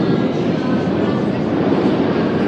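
Metro train at Kiyevskaya station in Moscow, a steady loud broadband rumble and roar of a train running, continuous and close, with no clear voices.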